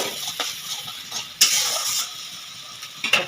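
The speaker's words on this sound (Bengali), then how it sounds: "আমি মশলার পেস্টটা দিয়ে দেবো আদা পেঁয়াজ কাঁচা লঙ্কা রসুন এরপরে আঁচটা আমি জোরে দিয়ে দেবো ভালো করে নাড়িয়ে নেব" A ginger, onion, green chili and garlic paste sizzles in a hot pan while a spoon scrapes and stirs it, with a steady frying hiss and a few louder clinks near and in front.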